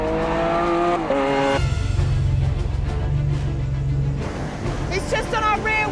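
A supercar launches at the start of a race against a jet, its engine revving hard and climbing through the gears at close range, while a person talks over it.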